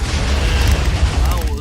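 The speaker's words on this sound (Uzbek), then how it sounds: "portlash boshlandi." Dynamite blast in the video game Minecraft: a loud, sustained low boom rumbling steadily through the whole short stretch, with crackling debris over it and no clear talk on top.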